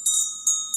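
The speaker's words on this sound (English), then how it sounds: "I have to ring the bell because I'm reading for Jax." A small bell rung three times in quick succession, giving bright metallic tones that ring on steadily and overlap, close and clear, with no voices.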